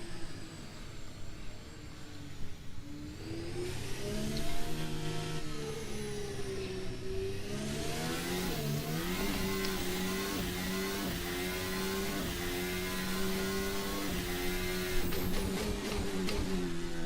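A race car engine in a sim racing game at the swimming pool chicane revs hard and steadily, its pitch climbing and dipping through gear changes, loud and close with no talking.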